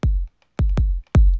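Three punchy electronic kick drum hits for a 122 BPM trance track, each a sharp attack with a deep booming low tail, evenly spaced and played alone.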